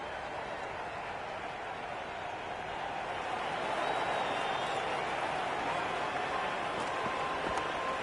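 Steady crowd roar and scattered applause fill a cricket stadium in the Cricket 26 video game, a dense continuous wash that swells slightly midway, with a commentator talking over it.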